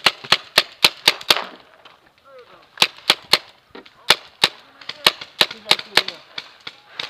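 Gunshots at an outdoor shooting session, sharp loud reports in quick bursts of several shots separated by brief pauses, with faint talk in between.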